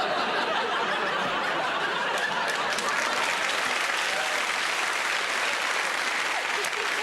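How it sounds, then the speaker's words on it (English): A studio audience at a 1979 Blankety Blank taping claps in a steady, full roar of applause that runs the whole stretch, with scattered chuckles mixed in. "Don't applaud, it only makes him worse."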